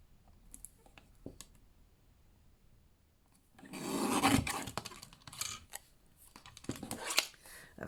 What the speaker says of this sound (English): Now I might just very lightly trim the top off that